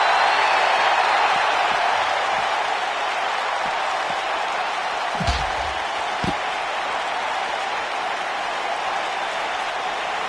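A large wrestling crowd in WWE WrestleMania keeps up a steady roar of cheering and applause, with a few scattered slams and thuds under it. No talk is heard.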